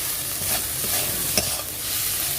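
Nigella seeds (kalo jeere) dropped into hot oil in a pan, giving a steady, dense sizzle that holds evenly throughout, with faint stirring ticks on top.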